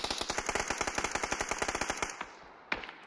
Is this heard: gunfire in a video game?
yes